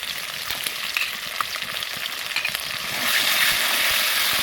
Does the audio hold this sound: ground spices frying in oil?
yes